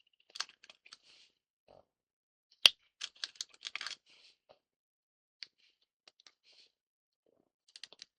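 A few sparse, crisp key clicks, each a short dry plock, tapped one at a time with gaps between them; quiet and close, with no talking.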